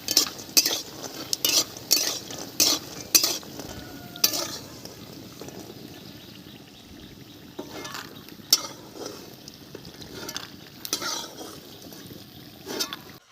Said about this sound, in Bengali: ফোড়নে শুকনো লঙ্কা দিয়ে দিলাম